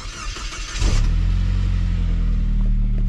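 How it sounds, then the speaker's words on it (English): A 2002 Saab 9-3 convertible cranks briefly on its starter motor, catches, and settles into a steady, loud, close idle that holds to the end. "But here's the starter motor."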